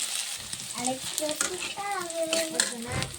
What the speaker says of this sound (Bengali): তারপরে যে গরম মশলা মশলাটা ভাজি আমি